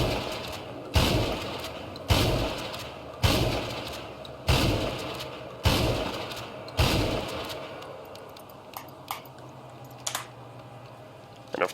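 Shotgun blasts in the video game GTA 5, six evenly spaced heavy booms about a second apart, each decaying quickly, followed by a few faint clicks and light taps.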